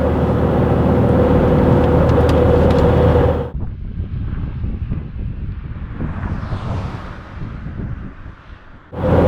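A Saab 9000 Turbo 2.3 Aero spec gives a loud, continuous roar of engine and wind on a test drive, dropping to a quieter rumble midway before surging back at the end.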